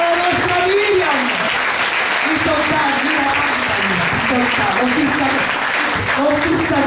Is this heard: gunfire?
no